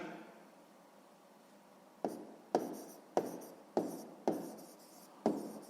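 Pen on paper writing out a sixth-grade math solution, quiet at first, then six or seven short scratchy strokes in steady rhythm, close and faint, with no talk over them.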